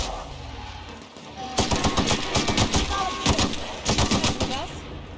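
A mega gun in The Outer Worlds firing rapid bursts of loud, punchy shots, a quick string of repeated blasts starting suddenly after a quiet lead-in and continuing with brief pauses.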